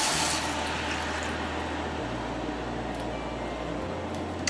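Chicken stock poured into a hot pan for rice pilaf, giving a steady, loud hiss and sizzle that holds evenly for the whole stretch, with no talking.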